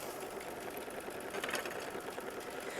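An embroidery sewing machine stitching with a steady, continuous mechanical whir that holds at an even level throughout, close by and with no talking.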